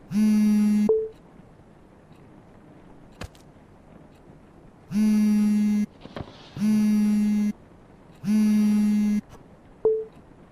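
Video game telephone ringing in four long, steady electronic bursts with silent gaps between them, plus a couple of short clicks, loud and close with no talk.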